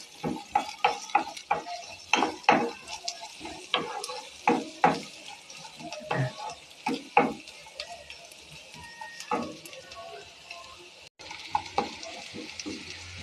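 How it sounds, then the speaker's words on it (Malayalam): Garlic and ginger fry in a pan for a Kerala squid roast while being stirred. Repeated sharp spatula scrapes and clacks come in an uneven rhythm over a low, steady sizzle, close and fairly loud. "നമുക്കിതൊന്ന് ചെറുതായിട്ടൊന്ന് ഇളക്കി കൊടുക്കാം."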